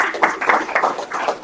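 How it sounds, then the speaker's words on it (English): Audience at a tech talk gives a brief round of clapping, a dense wash of hand claps rising and falling in quick pulses, fairly close and loud. "Can we get a round of applause for my lovely assistant?"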